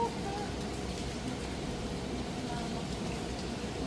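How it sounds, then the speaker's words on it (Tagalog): Heavy monsoon rain in Boracay during habagat season, a steady dense hiss of rainfall on surfaces, constant and moderately loud throughout. "Grabe talaga yung ulan"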